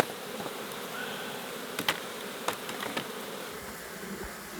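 Honey bees hum steadily at a beehive, a close, continuous buzz with a few brief louder passes as single bees fly by.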